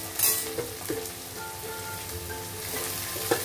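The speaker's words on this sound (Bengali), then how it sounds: "পেঁয়াজটা ভালো করে ভেজে নেব" Chopped onions fry in a pan with a steady broadband sizzle. Occasional stirring clinks and scrapes stand out nearby, with no voices.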